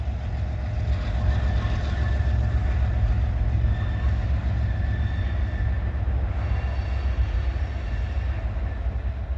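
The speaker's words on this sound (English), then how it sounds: "he's going to shove it up in the yard track past the derail" A freight train shoving cars up a yard track past a derail, a steady loud rumble of rolling wagons and locomotive with faint wheel squeal, continuous throughout.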